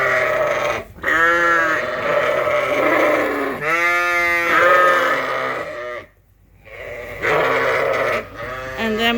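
Ewes and lambs bleating loudly on a sheep farm during a round-up into a trailer, several overlapping wavering calls close by in long runs with one brief pause.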